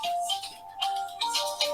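A mobile phone ringtone plays quietly in a room, a short repeating electronic melody of bright tones.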